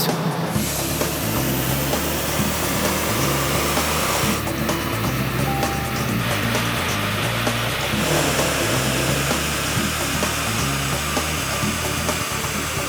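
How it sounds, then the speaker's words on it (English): A car engine roars steadily at high revs on a dyno for the whole stretch, loud and close, with a constant droning mechanical tone and no talking. "we're going to do the first of 3 dyno runs on the standard car"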